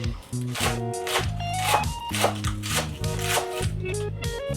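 A knife chops green onions on a board in quick, rhythmic close strokes, with music or a voice running underneath.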